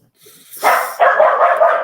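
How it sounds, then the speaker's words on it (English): A dog barks loudly and close, a sharp yelp followed by a quick run of barks. "Damn dogs"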